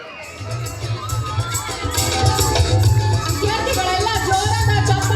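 A school annual day award ceremony erupts into cheering and clapping, with children's shouts and whoops building into a loud, continuous crowd roar.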